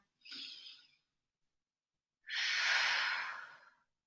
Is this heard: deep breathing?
yes